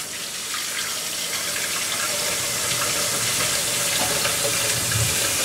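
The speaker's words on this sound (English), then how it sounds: "close the sink and you'll see how much water fills the sink" Tap water running steadily into a sink in a converted school bus kitchen, a continuous even splashing rush that holds at the same level throughout with no voices.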